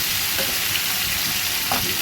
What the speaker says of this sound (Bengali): এবার পেঁয়াজ আর টমেটোটাকে কালো জিরের সাথে ভালো করে নেড়ে চেড়ে নেব।